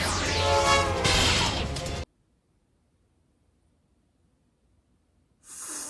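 Train sound for the Yu-Gi-Oh! Arc-V card Express Train Trolley Ollie: a loud horn blast with rushing train noise lasting about two seconds, then near silence, with another loud sound starting at the end.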